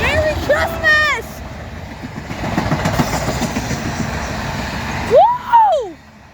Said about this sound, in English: That's what I say, a Christmas train.